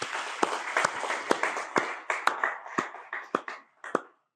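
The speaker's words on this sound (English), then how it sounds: "So a little round of applause for all our sponsors." A small audience claps for event sponsors at a tech keynote, scattered and thinning applause with distinct individual claps that taper off into a few final slaps.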